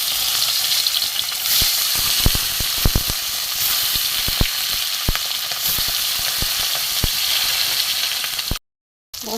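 Pieces of fish fry in hot oil in a home kitchen, a loud, continuous close sizzle broken by sharp crackling pops and occasional utensil clicks, with no voices.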